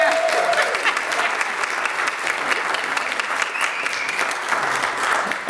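Steady, dense applause from a large audience, loud and continuous for several seconds, with a few faint voices mixed in.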